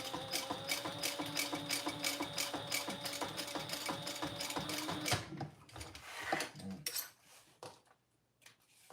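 A sewing machine stitches rows on a fabric traveler pouch in a fast, even run of needle strokes for about five seconds. The machine then stops, leaving scattered soft clicks and handling sounds that fade toward quiet.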